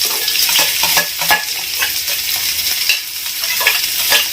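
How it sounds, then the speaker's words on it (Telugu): Chopped onions frying in hot oil in a pan, a loud, close, continuous sizzle broken by irregular stirring scrapes. "కొద్దిగా నూనె కాగిన తర్వాత ఎర్రగడ్డలు వేస్తున్నాను, కట్ చేసి ఉంచుకున్నాను కదండి"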